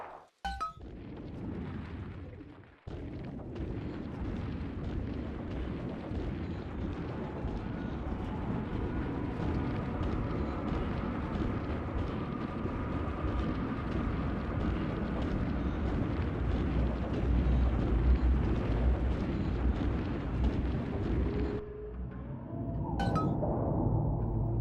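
Bombs explode in Bioshock 2, sending a sustained, loud rumbling roar of blasts and debris that continues for about twenty seconds before cutting off, with a sharp crack near the end.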